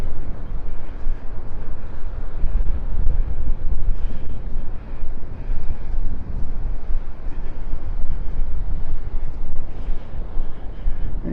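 Strong wind roars steadily into the microphone on a beach at the mouth of Delnor-Wiggins Pass in Naples, a loud continuous rumbling buffet with gusty swells and no voices.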